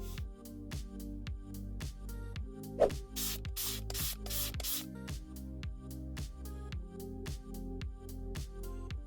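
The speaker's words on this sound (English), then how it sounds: "Use a spray bottle filled with water to find the puncture place." A spray bottle mists water onto a punctured tire in a few short hissing bursts, faint beneath steady rhythmic background music.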